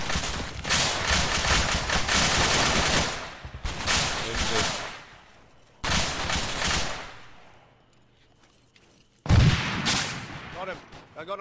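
Gunfire in the ArmA 3 military shooter on the Zargabad map: loud broadband bursts of rapid shots and volleys, a sharp pause, then another close salvo, with occasional voices mixed in.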